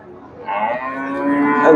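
Friesian cattle at a bull market, one close, rising moo lasting under two seconds and growing louder toward its end.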